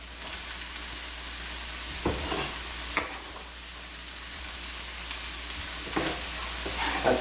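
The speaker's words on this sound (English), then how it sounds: "to the frying pan." Vegetables sizzle steadily in a hot frying pan, with a few soft clicks and scrapes of stirring breaking through the continuous frying hiss.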